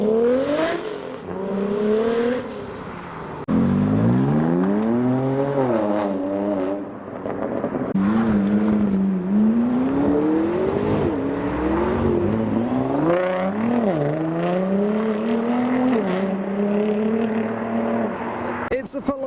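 A Toyota Supra revs hard during a smoky burnout at a JDM car meet, its engine note rising and falling in long sustained sweeps, loud and continuous, with crowd noise underneath.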